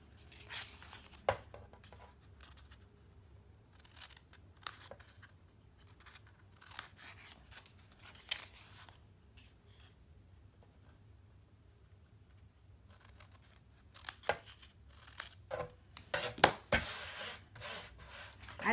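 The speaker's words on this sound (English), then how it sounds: "Cut up to the corner and then trim it a little bit." Scissors snipping and trimming paper for a rectangular tissue box cover, sharp intermittent cuts and soft paper rustles, close and fairly quiet, with clusters of quicker snips toward the end.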